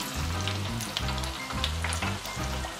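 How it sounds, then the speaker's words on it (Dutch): Homemade French fries pre-frying in hot oil at 140 degrees, a constant bubbling sizzle with crackling pops and a low pulsing rumble, close and fairly loud, with no voices. "even voorbakken op 140 graden"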